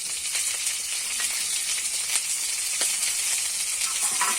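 Ginger, cumin and chilli spice paste frying in hot oil for a Bengali mango and snakehead fish dish, a dense continuous sizzle with faint stirring scrapes, close up and with no voices.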